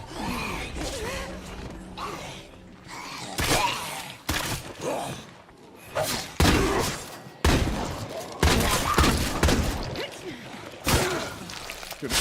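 Shotgun blasts ring out in the zombie survival game State of Decay 2, a series of loud, sharp booms at irregular intervals with short quiet gaps between them.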